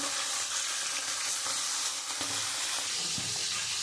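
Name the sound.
tilapia fish frying in hot oil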